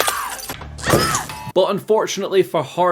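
Glass shatters in a slasher film, a sharp crash and crunching spray of breaking glass early on, followed by someone narrating over it.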